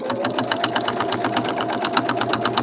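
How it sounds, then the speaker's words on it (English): A sewing machine runs a plain straight stitch on woodland-themed journal ephemera pieces. Its needle taps out a fast, even rhythm, close and continuous, with no talking. "And I'm going to do a straight stitch, I think."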